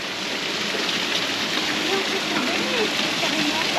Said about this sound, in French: c'est une cascade. Mais pourquoi alors il y a de l'eau qui tombe?